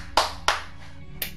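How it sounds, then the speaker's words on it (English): Hands clap three times in a sparse, uneven rhythm, two sharp claps close together and a lighter one after a pause, near and alone with no talk. "I applaud you."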